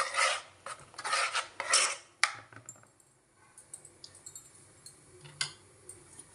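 A spoon scrapes and clinks against a bowl while stirring thin batter for ajwain-leaf fritters, several rapid rasping strokes up front, then sparse faint taps and clicks, close and without talk.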